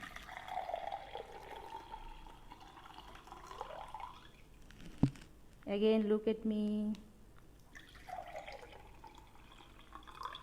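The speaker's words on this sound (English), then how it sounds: "This is called pour." Water being poured from a container during a classroom demonstration, a brief bubbly gurgling stream lasting about a second between stretches of a teacher talking.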